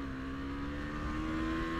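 A KTM Duke 390 motorcycle accelerating on an empty road: a continuous high-pitched engine whine with a steady tone, heard close up for about two seconds, with no talking.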